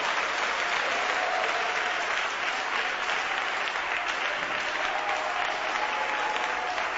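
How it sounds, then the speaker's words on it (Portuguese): Steady, sustained applause from a large church congregation during a sermon, dense and even throughout with no pauses or voices standing out. "louvai ao Senhor Jesus com uma salva de palmas, com uma salva de palmas."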